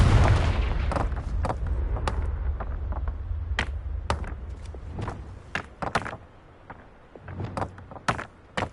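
A Confringo blasting curse in a Harry Potter video game goes off as a deep booming explosion at the start, followed by a rumbling decay and a scatter of sharp thuds and cracks.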